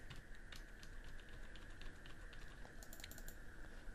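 Steady typing on a computer keyboard while text is entered into a box in Microsoft Publisher, continuous quick key clicks at moderate level over a faint constant hum, with no talking.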